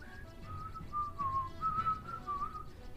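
A person whistles the melody of a song in a steady, wavering tune, alone at moderate loudness against a faint background hum.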